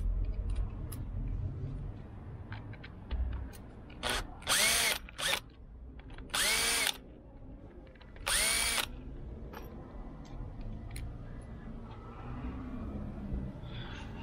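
A power screwdriver with a T20 bit backs screws out of a BMW E60/E61 seat in three short, loud whirring bursts. Quieter workshop handling noise fills the gaps between bursts.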